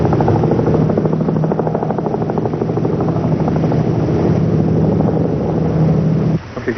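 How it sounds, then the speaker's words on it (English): A police helicopter drones overhead with steady rotor thumping, loud and constant, ending with a sudden drop in level. "Sometimes a police helicopter will be sent out to try and locate the criminals from the air."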